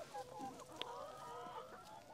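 Free-range chickens on a poultry farm cluck steadily at close range, with overlapping soft calls and one brief sharper squawk, and no voices in between.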